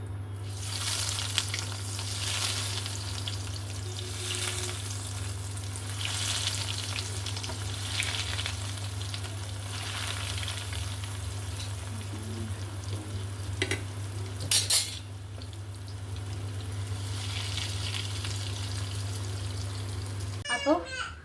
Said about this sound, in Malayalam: ഇതിനകത്ത് നമുക്ക് കട്ട്ലേറ്റ് ഒഴിക്കാം കേട്ടോ